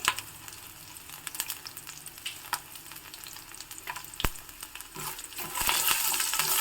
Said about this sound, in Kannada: ಸಾಸಿವೆ ಚಟಪಟ ಅಂತ ಸಿಡಿತಿರುವಾಗಲೇ